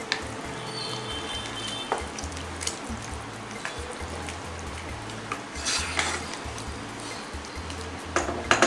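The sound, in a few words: bhindi masala (okra) simmering in a pan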